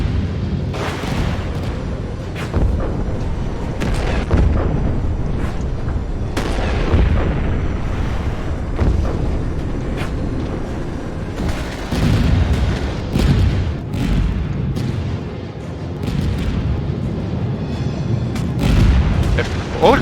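Repeated heavy grenade launcher blasts in the mech combat game Mecha Knights: Nightmare, loud booming explosions in a dense, continuous barrage with sharp bursts throughout.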